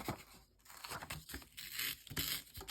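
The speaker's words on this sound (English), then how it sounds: "This is how I would rip it off." Paper is torn off by hand in a few uneven ripping and crinkling bursts across a couple of seconds. The sound is close but quiet, with no talking.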